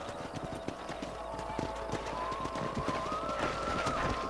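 Horse hooves clip-clop steadily in a video game, a dense rhythmic patter of many footfalls running throughout under a man's intermittent speech.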